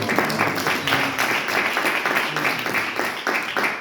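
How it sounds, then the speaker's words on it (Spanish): A church congregation claps together in a quick, even rhythm, loud and close, with voices cheering faintly underneath the sustained applause. "Denle un aplauso al Señor."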